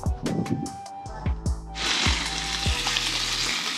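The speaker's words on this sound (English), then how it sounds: "Doing some bacon." Bacon frying in a pan at an overlanding campsite, with a few sharp clanks early on, then a continuous loud crackling sizzle close by.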